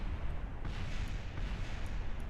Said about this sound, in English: I just want to point out that I do hear lots of explosions in the background